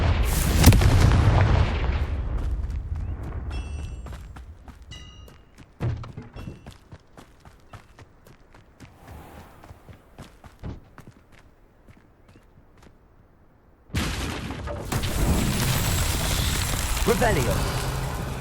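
Confringo blasting curse going off in Hogwarts Legacy, a loud burst with a heavy low boom at the start, a scatter of quieter thuds and footstep-like taps in between, and then a second dense, noisy blast that lingers.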